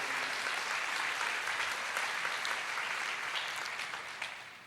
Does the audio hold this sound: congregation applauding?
yes